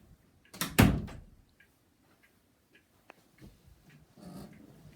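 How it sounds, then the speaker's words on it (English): An indoor door is shut with one fairly loud, close thud. A faint click and soft rustling follow in a quiet room. "just shutting the door because Andrew's in the kitchen"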